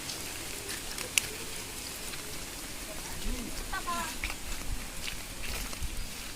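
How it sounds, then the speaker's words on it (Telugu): Rain falls steadily by a village pond, a soft, continuous hiss of drops holding at a low level for several seconds, with a faint voice in the background. "విన్నారా, వాన పడుతుంది రే"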